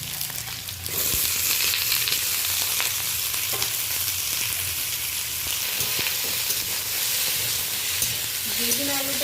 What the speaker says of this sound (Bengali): আমি আলু বেগুনটা একটু হালকা করে প্রথমত ভেজে নেব।